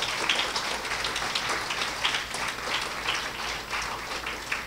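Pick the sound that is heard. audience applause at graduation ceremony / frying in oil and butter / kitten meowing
audience applause at graduation ceremony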